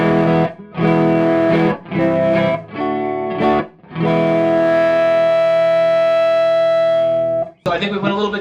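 A G&L ASAT Classic electric guitar played through an amp with the tone dial rolled up: sustained, harmonically rich notes in several phrases, ending in one long held note that rings for a few seconds before cutting off.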